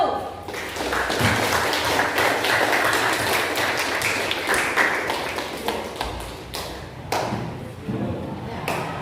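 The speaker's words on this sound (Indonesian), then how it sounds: "mari kita kasih aplaus untuk kelompok 1" A classroom audience applauding a group of presenters, a dense patter of hand claps that stays fairly loud and close for several seconds before thinning out, with some voices mixed in.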